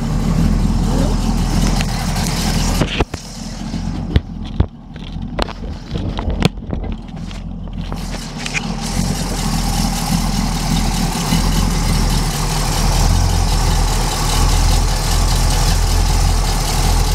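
A 1969 Pontiac Firebird's 400 V8 idles to warm up, a steady, close rumbling drone with a few sharp clicks and knocks early on, running alone without talk.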